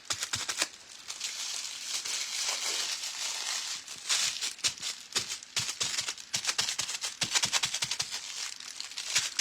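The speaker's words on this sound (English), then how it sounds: "crumpling it up, as I said, makes the foils easier to release" Leftover craft foil scraps being crumpled by hand, a close, continuous crinkling and crackling with sharp irregular bursts throughout, no voices.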